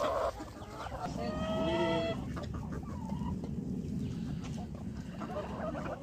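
Several hens cluck and chirp close by while eating papaya, with brief rising calls over a steady background hiss.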